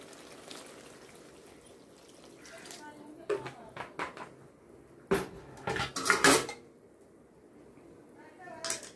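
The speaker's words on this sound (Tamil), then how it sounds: "இதில் நான் கொஞ்சம் சுடுதண்ணி" Hot water poured into a pan of sardine fish curry with masala in a home kitchen, amid clinks and knocks of pots and utensils, in a few short bursts at moderate volume.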